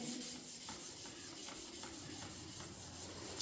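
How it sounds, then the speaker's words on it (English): A plastic car headlight being sanded with 600 grit paper, a faint, steady rubbing and rasping that repeats in quick even strokes, close by, with no voices. "Now what I'm doing to start off with is just rubbing it over, give it a perimeter rub down"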